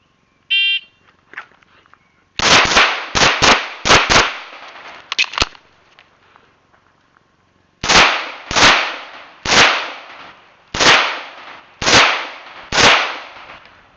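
Pistol shots ring out during a USPSA Carry Optics stage, first a quick cluster of sharp reports, then a pause, then six evenly spaced shots, loud and close with brief echoing tails.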